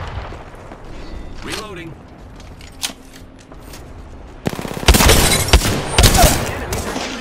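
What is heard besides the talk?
enemy gunfire in the video game Apex Legends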